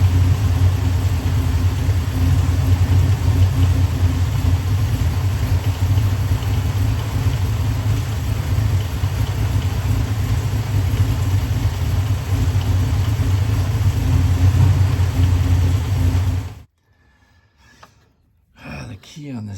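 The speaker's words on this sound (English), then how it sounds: "I'm going to try to see if I can get this carburetor to idle." Flat fender Jeep engine with a carburetor idling, a loud steady close rumble that runs evenly for about sixteen seconds, then cuts off abruptly, leaving a few faint knocks.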